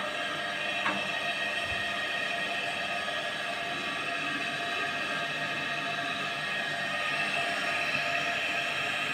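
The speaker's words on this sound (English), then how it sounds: "Now I am going to increase load on motor with the rotary arm." A three-phase 415-volt induction motor runs under load from a rotary brake arm with a steady, constant electrical hum and mechanical drone. The sound stays even for the whole stretch, with no speech.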